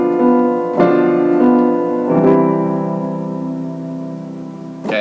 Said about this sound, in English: your leading tone imperfect authentic cadence